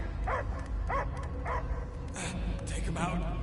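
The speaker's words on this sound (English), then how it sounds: "I hear only barking" A dog in the Guardians of the Galaxy video game gives a series of short, evenly spaced barks and yips up close, with other game sounds behind.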